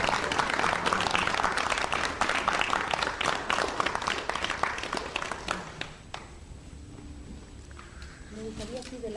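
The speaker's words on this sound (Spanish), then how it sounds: "Un aplauso primero" A talk audience breaks into applause after a presentation on depression in Chile, sharp overlapping claps for about five seconds that thin out and fade, leaving quiet room noise and a voice beginning to speak.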